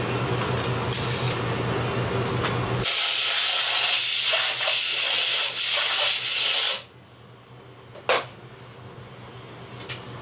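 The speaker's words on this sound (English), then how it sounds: "Put a little bit more WD-40 in there just for the seal" Short hissing bursts of WD-40 aerosol sprayed onto a fork seal during a 2008 Honda VTX 1300 fork rebuild, with a longer sustained spray in the middle, then quiet with a faint tap.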